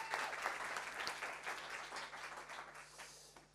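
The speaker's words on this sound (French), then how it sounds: "On peut applaudir." Applause from an audience at an entrepreneurship pitch comedy workshop: a soft, fairly distant patter of many hands clapping that fades gradually over a few seconds.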